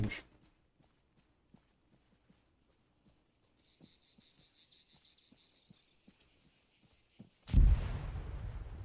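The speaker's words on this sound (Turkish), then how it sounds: "Bir şey patladı ama." In the video game Arma 3, after quiet scattered thuds and footsteps, a sudden loud explosion booms near the end and rumbles on afterward.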